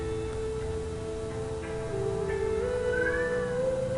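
A cat in the point-and-click video game Primordia meows in repeated, drawn-out cries over a steady droning game soundtrack, loud and close throughout.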